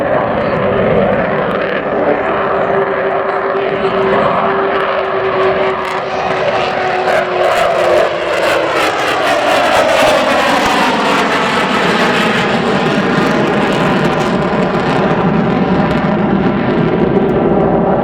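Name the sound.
Avro Vulcan XH558 bomber jet final flypast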